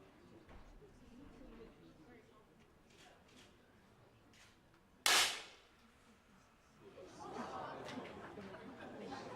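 A single sharp crack of a 10 m air pistol shot at a women's World Cup final in Munich, cutting through low arena murmur, with crowd noise and applause swelling a couple of seconds later.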